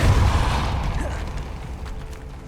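A Depulso spell cast in Hogwarts Legacy lands as one heavy, close booming burst that rumbles and slowly fades away.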